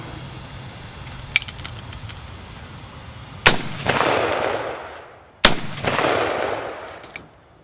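Two sharp, loud rifle shots from a Johnson rifle, a few seconds apart, each followed by a long rolling echo that fades out; faint handling clicks come before them.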